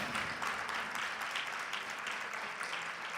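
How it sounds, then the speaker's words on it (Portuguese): Clapping from an audience at a talk, steady and fairly loud throughout this short stretch, a continuous wash of many hands without voices over it. "Isso aí, ó, pode aplaudir."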